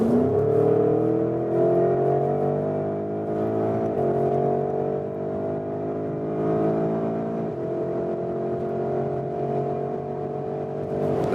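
A 2021 Porsche Cayenne GTS Coupe V8 in Sport Plus mode accelerating hard from about 80 km/h, heard from inside as a steady rising engine roar with a few brief gear-shift dips, loud and continuous without talk.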